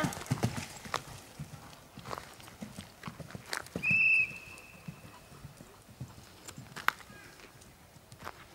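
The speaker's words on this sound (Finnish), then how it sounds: "Tulee vaan hevonen." Horse hooves clip-clop in a steady, rhythmic walk at a regional championship riding event, moderately close, with a brief tonal sound midway and faint background voices.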